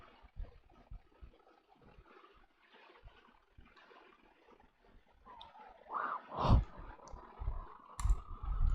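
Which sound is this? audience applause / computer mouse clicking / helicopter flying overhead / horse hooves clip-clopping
computer mouse clicking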